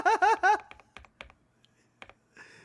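Typing on a mechanical keyboard, scattered sharp key clicks spaced irregularly after a brief burst of laughter, fairly close in a quiet room.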